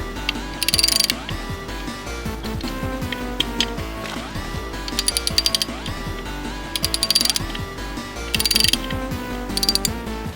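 A ratchet clicks rapidly and repeatedly while tightening small T20 screws on a motorcycle cover, loud and close, in quick bursts of fast pawl ticks with mechanical rattling between them.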